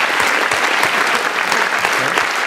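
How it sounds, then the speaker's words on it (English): An audience at a business community panel discussion and AGM in Wisbech gives a short, even burst of clapping that stays dense and steady from start to finish. "A round of applause for Russell"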